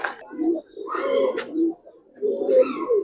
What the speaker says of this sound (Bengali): ডাউন শেপের একটা কবুতর